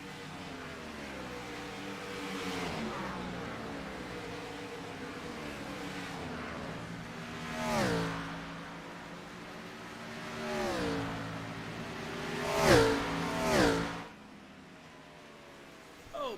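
Race cars in an All-American Cup Series finale at Homestead, heard from a distance. Several pass-bys roar up and fade at irregular intervals over a steady engine drone, with two louder passes close together near the end.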